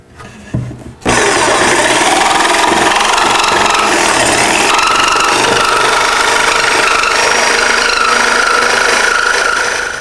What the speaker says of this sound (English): Fortunately, in our shop, we have a jigsaw.